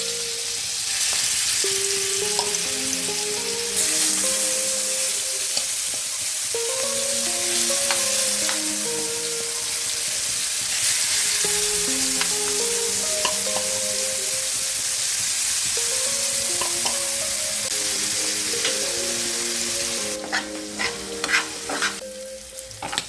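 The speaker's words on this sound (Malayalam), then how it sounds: "നമ്മുടെ ചെമ്മീനൊക്കെ നല്ലതുപോലെ ഫ്രൈ ആയിട്ടുണ്ട്." Prawns fry in hot coconut oil in a pan, giving a steady, close sizzle that runs unbroken throughout, with soft melodic music playing underneath.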